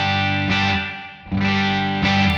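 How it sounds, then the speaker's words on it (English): Electric guitar run through the simulated spring reverb of a NUX Tape Echo, a few sustained strummed chords that swell and overlap, each carrying a lingering reverberant shimmer. "So it's a simulation of a spring reverb"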